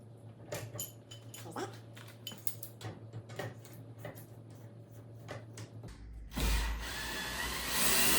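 The gearbox of a FLEXIMOUNTS GL1 garage lifting rack cranked by hand, giving steady rhythmic ratcheting clicks under a low hum, close and quiet, ending in a louder rushing burst.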